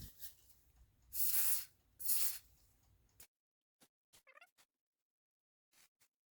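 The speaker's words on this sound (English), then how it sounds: "Then I'll spray it again to get rid of the excess oil." Two loud, broad hissing sprays from an aerosol can of light lubricant onto a bicycle part, each about half a second long, followed by faint clicks and small handling noises.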